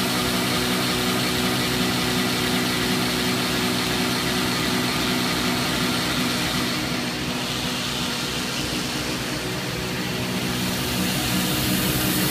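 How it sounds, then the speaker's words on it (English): A DM 1100C machine brushing a large stainless steel part, giving a loud, continuous broadband whir and hiss with a steady low drone that barely changes throughout, with no talk. "you can hear the machine, the brush is actually working a lot more than what we had before"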